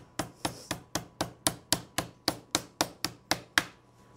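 Meat being pounded flat with a tenderizer mallet, about fourteen sharp, evenly spaced thumps in a steady rhythm, close and clear with no talk.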